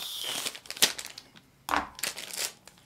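Cardboard box around a Klein Tools Resurgence knife is torn and crushed open, with sharp crinkling rips and crunches in two close bursts and no talk.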